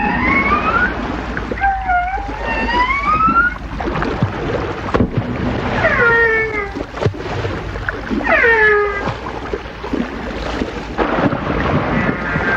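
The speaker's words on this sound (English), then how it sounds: "Only the male humpbacks sing, and then only during the mating season." Male humpback whale song rises and falls in long moaning calls and upward-sweeping whistles, repeated phrases recorded underwater, with a steady low hiss behind them.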